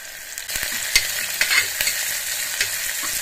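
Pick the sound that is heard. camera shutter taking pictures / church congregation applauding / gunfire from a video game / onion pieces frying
onion pieces frying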